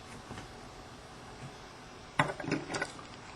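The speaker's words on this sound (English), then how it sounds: "I'm going to put the hook in the vise so the shank of the hook is parallel to the table." A fly-tying vise clamps a hook for a green woolly worm fly. Over a quiet room, a brief cluster of small metallic clicks and taps comes near the end.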